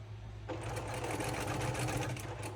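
A sewing machine stitches pieces of a double wedding ring quilt, its motor running in a steady, close, continuous whir with no talk.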